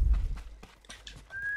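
Hoofbeats of a galloping horse in Ghost of Tsushima, heard as a quick run of close, rhythmic thuds with a bird-like whistle rising near the end.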